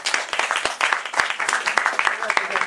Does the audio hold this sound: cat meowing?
no